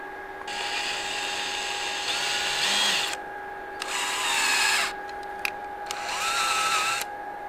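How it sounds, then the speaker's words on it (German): A power tool cuts a thread for a moped part in a workshop, running in loud, sustained bursts separated by short pauses, with a small clank partway through. "Gewindli schneiden."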